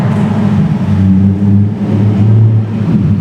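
A Nissan 350Z fitted with a Z1 Motorsports M-Spec single exhaust rumbles at low speed inside a parking garage, a deep steady drone with slight rises in pitch, close and loud with no talking.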